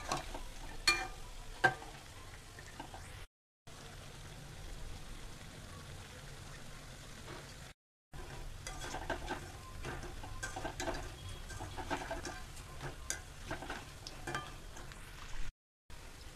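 Semolina pakoras sizzling in oil after being flipped, a continuous crackling fry with occasional sharper pops and light stirring scrapes, moderately faint and without speech.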